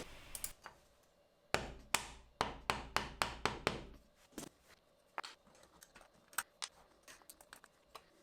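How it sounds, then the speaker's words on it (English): Gentle hammer taps seat a threaded nut into a 3D-printed brush holder part for an E3D toolchanger: a few scattered light ticks, then a quick run of six or seven sharp, close knocks, followed by softer, irregular clicks. "Gentle blows with a hammer ensure the necessary fit in the printed part"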